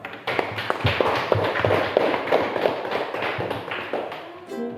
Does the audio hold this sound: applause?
yes